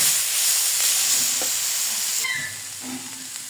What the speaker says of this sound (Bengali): সুন্দর করে ভাজিটা ভেজে নিচ্ছি